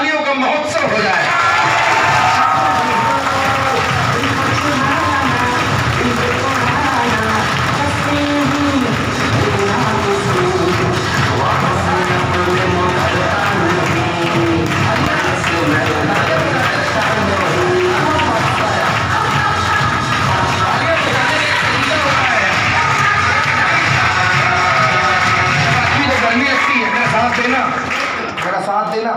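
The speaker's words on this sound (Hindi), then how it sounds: "पूरे बुंदेलखंड के लिए तालियों का महोत्सव हो जाए" A large seminar crowd in Bundelkhand bursts into prolonged applause and cheering, a loud, thick wall of clapping and shouts that holds unbroken for about half a minute.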